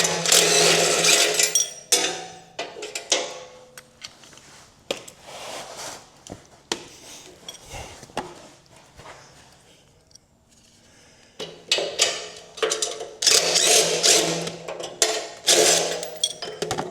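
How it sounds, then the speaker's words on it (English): Bolts being removed from the frame of a Mech Max SG24 stump grinder with a power tool, giving repeated close, loud mechanical whirring bursts separated by short pauses. "So just gonna take these 4 bolts off."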